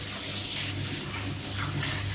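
Chicken gizzards are rinsed under a running tap, a continuous close splash and rush of water over the meat in a kitchen sink, with no speech.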